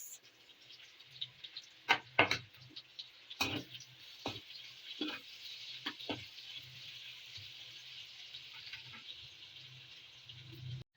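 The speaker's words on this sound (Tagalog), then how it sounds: "magigisa naman tayo ng sibuyas tsaka ng bawang" Onion and garlic sautéing in a home kitchen pan for chicken paksiw, a steady faint sizzle with a few sharp clinks of a utensil against the pan, no talking.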